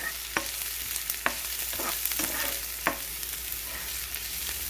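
Onions cooking in about a tablespoon of oil in a pan: a constant hissing fry with periodic sharp stirring scrapes, moderately loud and uninterrupted by speech.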